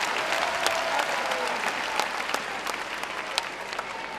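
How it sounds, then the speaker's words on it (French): Audience at a live comedy show in Abidjan applauding, a dense steady burst of clapping with sharp individual claps standing out, continuing throughout. "Applaudissez pour la famille DJ, on ne sait jamais."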